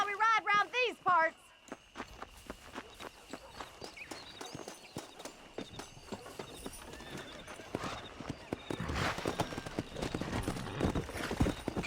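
Horse hooves clip-clop in the Red Dead Redemption video game after a sharp whinny opens the ride, then settle into a steady gallop that grows busier and louder toward the end.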